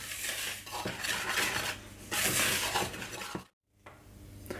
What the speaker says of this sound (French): Avec le fouet, je mélange.